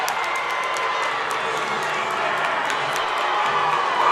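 Crowd noise at a college hockey game between USU and Weber, a dense steady roar of cheering and applause with scattered claps and whoops, held at a constant loud level for the whole stretch.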